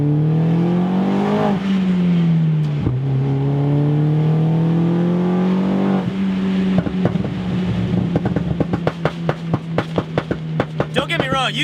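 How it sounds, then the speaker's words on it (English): A car engine idles and revs in a steady drone, then sharp exhaust pops and bangs crackle in quick bursts toward the end, loud and close. "So you still get to hear those fun little bangs, but it's not so obnoxious."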